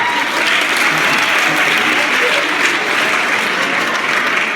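An audience claps to welcome a speaker at a talk, a dense, steady roar of applause filling the room at even loudness throughout.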